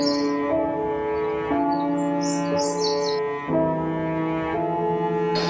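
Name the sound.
small bird chirping in cartoon story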